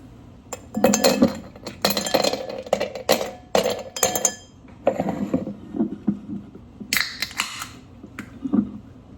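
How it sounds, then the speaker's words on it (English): Ice cubes clink and rattle against a wine glass filled with pineapple strawberry LaCroix sparkling water, in close, bright, irregular bursts with short pauses between the knocks. "I'm having a pineapple strawberry LaCroix in a wine glass with some ice."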